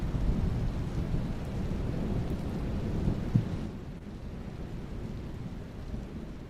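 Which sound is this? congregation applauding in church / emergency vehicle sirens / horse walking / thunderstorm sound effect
thunderstorm sound effect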